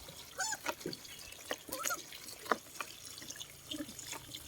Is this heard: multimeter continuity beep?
no